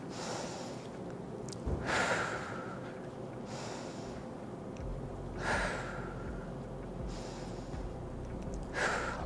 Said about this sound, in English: now take last 3 deep breaths